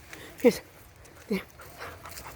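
A happy dog gives two short, soft barks about a second apart, fairly faint against a quiet outdoor background.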